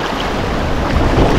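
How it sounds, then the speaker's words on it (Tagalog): Strong ocean waves roll and crash at sea with steady wind noise, a continuous loud, broadband rush with no voices. "ang lakas ng mga alon doon oh"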